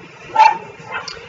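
Dogs barking indoors, one sharp bark followed by a softer second yip, fairly close and alone without talk.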